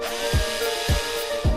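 A Goodpapa N10 electric bottle brush runs with a steady whirring motor hum, and a soft thump repeats about every half second.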